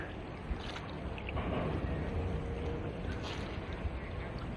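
A small boat comes in to dock, giving a faint, steady low rumble of engine and water wash blended with wind noise on the microphone.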